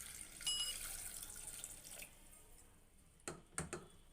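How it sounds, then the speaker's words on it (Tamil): Water from a tap pours into a pot of cut potatoes for boiling, a soft splashing stream that thins out, followed by a couple of brief louder splashes near the end. "இதில் தண்ணி ஊற்றிக்கிறேன்"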